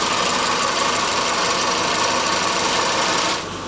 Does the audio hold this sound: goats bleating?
no